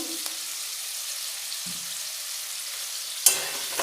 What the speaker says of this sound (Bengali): আলুগুলো খুব ভালোভাবে ভাজা হয়ে গেছে